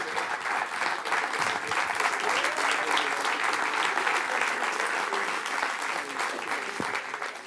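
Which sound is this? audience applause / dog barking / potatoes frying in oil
audience applause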